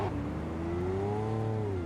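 Steady car engine drone from the Cyberpunk 2077 video game, a sustained hum holding at one pitch and then slowly rising and falling, continuous and fairly loud with no talk over it.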